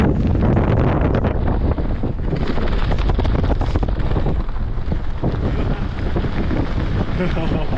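Strong wind buffets the microphone during a mountain bike ride on Holyhead Mountain, Anglesey, in a loud, continuous, gusty roar with faint muffled voices underneath.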